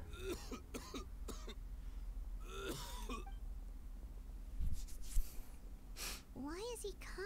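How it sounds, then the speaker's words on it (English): A game character in Genshin Impact coughs and clears his throat in several rough bursts, with spoken dialogue heard between them. "Why is he coughing so much?"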